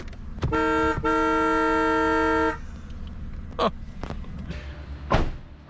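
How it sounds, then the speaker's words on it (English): A wrecked Maybach 57's horn sounds in two long, loud honks with a brief gap, followed by quieter clunks and rustling. "listen to this horn. It's absolutely crazy."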